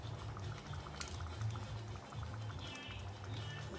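A pot of stew with bay leaves bubbles steadily at a close, continuous boil, with liquid popping and gurgling throughout.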